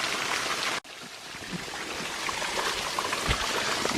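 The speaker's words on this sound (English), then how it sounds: "This is a wet section of trail and there is a lot of water coming down." Spring water runs down a wet canyon trail at a Tennessee nature preserve, a steady close rushing and trickling wash that carries on without a break, with no voices.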